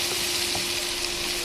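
Vegetables seasoned with salt and turmeric fry in a pan, giving a steady, even sizzle of hot oil that holds at a constant level throughout the short stretch, with no voices.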